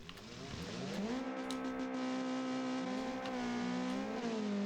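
A Honda Civic in the BeamNG driving game launches from the start line, its engine revving up hard and climbing steadily through the gears, loud and continuous with a rising, buzzing tone.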